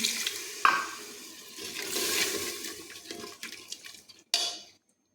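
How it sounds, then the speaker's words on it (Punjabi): Water is poured into masala frying in oil, starting with a sharp splash, then a loud rushing hiss and sizzle that slowly fades, followed by a brief final burst that cuts to silence. "ਤੇ ਆਪਾਂ ਥੋੜਾ ਜਿਹਾ ਪਾਵਾਂਗੇ ਪਾਣੀ"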